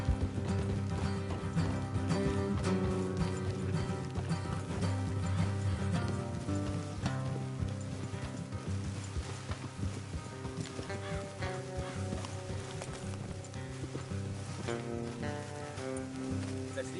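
Horses gallop along a road in Red Dead Redemption 2, a steady stream of hoof clip-clops under a constant musical score, moderately loud and continuous, with faint voices in the mix.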